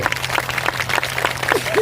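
A congregation claps in praise at a church worship gathering, a dense, steady patter of many hands close by with a faint sung or spoken voice rising near the end.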